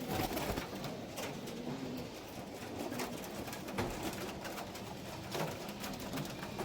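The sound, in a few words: pigeons released, cooing and flying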